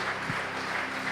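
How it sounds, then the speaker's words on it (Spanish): A congregation at a church service applauds, a short continuous wash of clapping hands at moderate volume with a brief low thump. "Dele otro fuerte aplauso al Señor."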